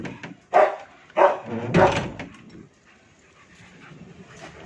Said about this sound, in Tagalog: Ayan, galit na yung mga aso ko.